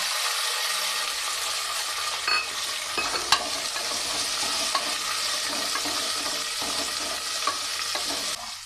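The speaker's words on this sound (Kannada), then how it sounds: "ಈ ಬಟಾಣಿ 1 ಕಪ್ ಬಟಾಣಿ ಇಟ್ಕೊಂಡಿದ್ದೀನಿ, ಅದನ್ನು ಹುರಿಲಿಕ್ಕೆ ಹಾಕ್ಕೊಳ್ತಾ ಇದ್ದೀನಿ." Fresh green peas stir-fried in a pan for pea pulao give a dense, continuous loud sizzle with occasional scraping clinks of a spatula, close up and without any voice.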